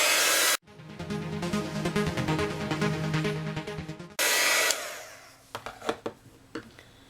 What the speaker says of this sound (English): dry it a bit with my heat tool because it is a more wet ink